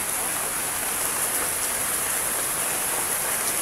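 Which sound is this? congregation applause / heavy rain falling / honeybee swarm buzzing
heavy rain falling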